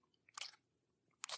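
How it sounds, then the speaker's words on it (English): An old man chews eggs in two brief, close, moist crunching bursts separated by a quiet pause. "He crammed the eggs into his mouth and chewed."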